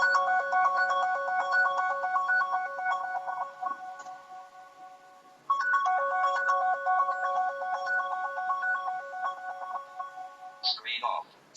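A mobile phone rings remotely through a find-my-phone feature, playing a loud, steady electronic ringtone melody in two long stretches split by a short pause, then a brief voice at the end.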